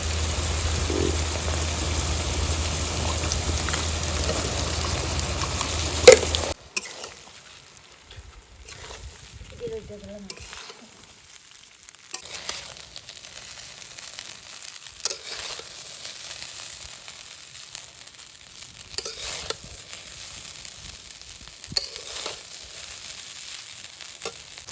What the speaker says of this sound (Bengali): আমি এবার এই ভাতগুলোকে সবজির সাথে ভালো করে ভেজে নেব